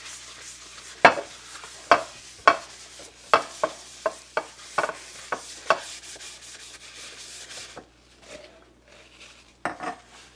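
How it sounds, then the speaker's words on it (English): Scraping and tapping against a 9 3/4-inch cake pan while its bottom and sides are greased with lard, a series of sharp clinks and rubbing strokes at irregular intervals, close and fairly quiet, with no voices. "I'm going to grease the bottom of my pan and the sides"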